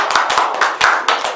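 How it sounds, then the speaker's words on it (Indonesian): Clapping rings out in a classroom during a teaching session, a short burst of sharp, fairly loud hand claps from a small group, with no talk over it. "Beri tepuk tangan untuk kita semua."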